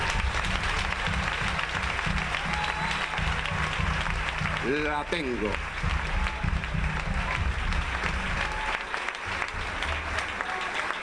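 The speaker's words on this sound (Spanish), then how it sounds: "Cuando pueden aplaudir, lo pueden hacer." A church congregation applauds steadily for several seconds, a dense wash of clapping that fills the space, while a preacher's voice speaks briefly over it partway through.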